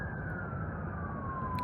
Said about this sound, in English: These fucking sirens, hopefully they're not too loud.